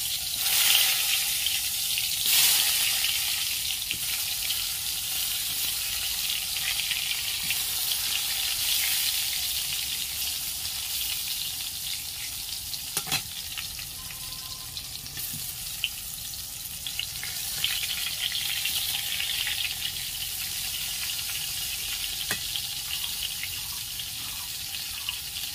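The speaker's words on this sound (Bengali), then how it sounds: "তো চলো বেগুনগুলো ভেজে নিই।" Small eggplants fry in oil in a wok, a steady broad hiss of sizzling that holds level and continuous throughout, close by, with a few faint clinks and no talk.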